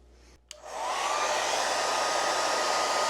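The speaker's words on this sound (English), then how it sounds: "heat up the adhesive a bit here with a blow dryer" A handheld blow dryer clicks on and roars into a steady, loud whooshing blast while warming adhesive on a Galaxy XR headset strap, constant and close with no talking.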